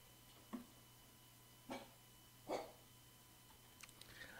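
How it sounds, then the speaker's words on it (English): A dog barks at something outside a window indoors, giving three short, separate barks at moderate distance over a steady low hum, followed by faint scattered clicks. "barking at something out the window"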